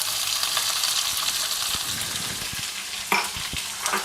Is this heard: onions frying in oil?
yes